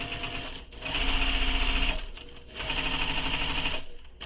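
A sewing machine stitches fabric along a pocket edge in two rapid, loud bursts of rattling needle strokes, separated by a brief pause and followed by a short stop.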